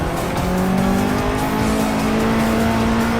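Loud, sustained engine drone of a race car in Assetto Corsa, its pitch climbing smoothly as the car accelerates, with a faint hint of tire noise and no talking.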